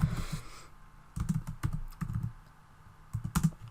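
Quick bursts of typing on a computer keyboard while writing a tweet, clustered clicks and key taps separated by short pauses, close and clear with no speech.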